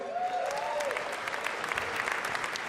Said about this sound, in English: how about a round of applause for Noodle House, who made that montage video?